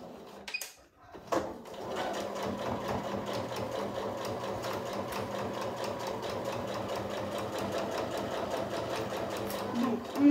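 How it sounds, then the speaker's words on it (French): Sewing machine running a steady straight stitch through backpack fabric with coated lining, a continuous close mechanical whirr lasting most of the clip after a brief start. "je vais venir faire ma petite couture au point droit"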